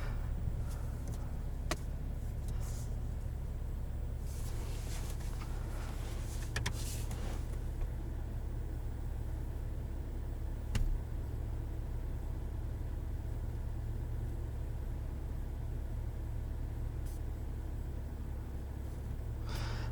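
A 2020 Chevrolet Silverado 1500 LT pickup idles steadily, a low constant engine rumble with a few faint clicks and small cabin noises over it, no one speaking.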